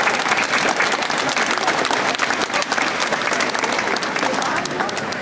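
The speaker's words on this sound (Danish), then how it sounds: "I må gerne klappe, er det ikke flot?" An audience at a children's daycare award ceremony bursts into loud, dense applause, continuous clapping that holds steady for several seconds.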